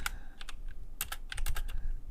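Rapid bursts of typing on a computer keyboard while coding, close and fairly soft, with irregular clusters of keystrokes and short pauses between them.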